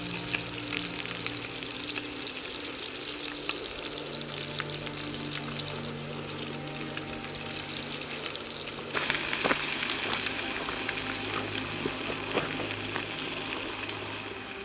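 Trout fry in a pan with a steady, close crackling sizzle that runs the whole time and jumps louder and brighter about nine seconds in.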